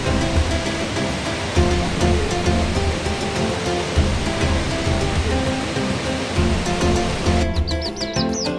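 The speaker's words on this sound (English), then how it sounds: "The walk through the rainforest is exceptional and offers 16 viewpoints of the falls" Victoria Falls pours in a dense, loud, unbroken roar of rushing water, heard close from a rainforest viewpoint, with faint bird calls surfacing near the end.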